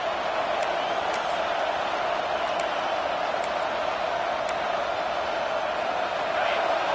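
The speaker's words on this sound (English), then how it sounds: "Here comes this home crowd as the defense tries to get off the field on third down" Home crowd at a USC football game roaring steadily as the defense faces third down, a dense, continuous wall of cheering with a few faint whistles above it.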